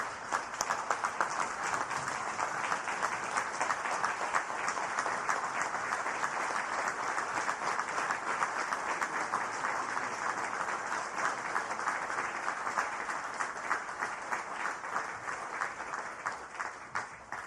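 Sustained, dense applause from a large audience welcoming the President of the United States at a formal meeting, steady and loud throughout with no pauses or speech.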